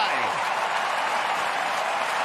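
A stadium crowd at an AFL football match between Sydney and St Kilda roars and applauds in a loud, dense, unbroken wall of cheering that lasts the whole moment.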